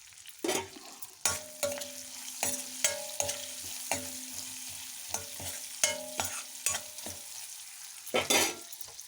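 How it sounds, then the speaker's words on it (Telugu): Garlic cloves, onion pieces and green chillies fry in a pan for a tamarind-leaf dal, with a steady soft sizzle under repeated sharp clicks and scrapes of a spoon stirring against the pan. "నాలుగు వెల్లుల్లి రెబ్బలు ఉల్లిపాయ ముక్కలు పచ్చిమిర్చి వేసి కొంచెం సేపు వేగనివ్వండి"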